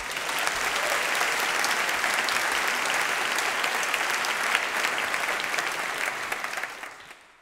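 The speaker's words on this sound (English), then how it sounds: "let's give another applause for Sally" Large audience at a forum award ceremony applauding steadily, a broad, even wash of clapping that holds for several seconds before fading out.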